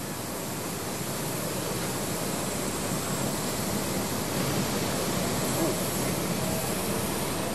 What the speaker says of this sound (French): l'avion transportant le président de la République française, Emmanuel Macron, a atterri sur les tarmacs de l'aéroport international de Ndjili